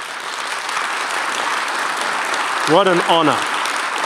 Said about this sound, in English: I want you as a church to really give a big clap offering to your leadership.